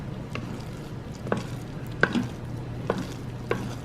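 A spoon works through risotto as grated Parmesan cheese melts in, making soft, intermittent scraping taps about five times over a low, steady background hum.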